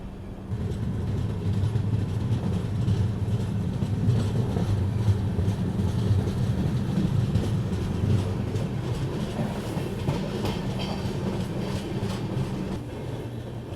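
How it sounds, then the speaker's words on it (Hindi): Passenger train, the Jharkhand Swarna Jayanti Express, pulling out of Muri Junction station, with a steady low rumble and rhythmic wheel clatter on the rails heard from on board at moderate volume without any speech. "हमारी ट्रेन यहाँ से निकल चुकी है अब बरकाकाना की तरफ"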